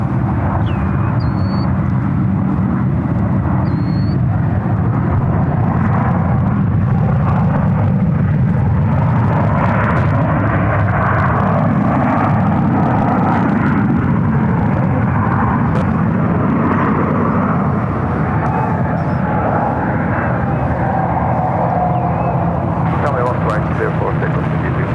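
Airplane taking off at SFO airport, a loud, continuous roaring engine rumble that holds steady for the whole stretch, with a few faint chirps over the top.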